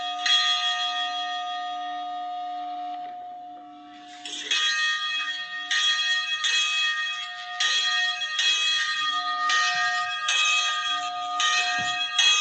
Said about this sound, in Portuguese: Toca o sino, pessoal!